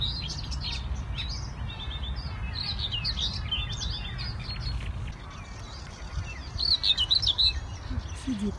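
A nightingale sings in bursts of bright chirps and whistled phrases, perched on branches outdoors, with a louder flurry near the end over a steady low rumble of background noise.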